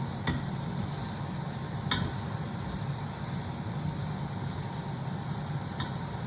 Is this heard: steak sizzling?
yes